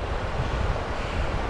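Surf rolls in at a beach while fishing at Elmer's Island, a steady, dense wash of waves mixed with wind buffeting the microphone, loud and continuous with no voices.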